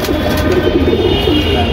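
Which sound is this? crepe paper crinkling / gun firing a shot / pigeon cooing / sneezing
pigeon cooing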